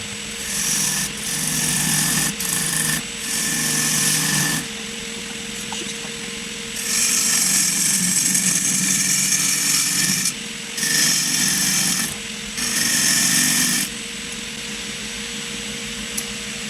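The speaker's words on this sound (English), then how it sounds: "I haven't cut Budgeroo across the grain before, and I'll tell you what, it's freaking hard. It is rock hard." Rock-hard budgeroo wood is cut across the grain with a power tool for a bowl, coming through as loud, rasping bursts of grinding that stop and restart several times, with a steady, quieter tone in the pauses.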